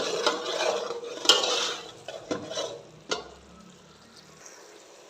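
Rice for zarda with lemon juice being stirred in a pot, with a metal spoon scraping and clinking against the sides in several separate strokes over a soft sizzle, some louder knocks, then quieter.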